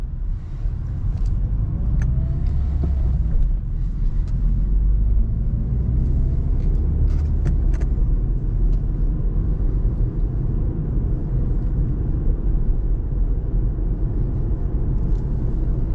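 A car drives steadily along a road, filling the cabin with a continuous low engine and tyre rumble and a few faint clicks.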